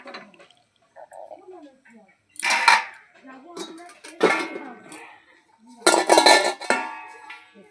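Metal lid clatters onto a cooking pot of egg and soya chunk curry, a few clanks of metal cookware standing out among quieter kitchen handling sounds, with a voice talking in between.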